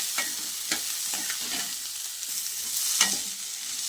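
Chopped onions frying in oil until browned, a steady close sizzle with several scraping stirs of a spoon against the pan, no voices.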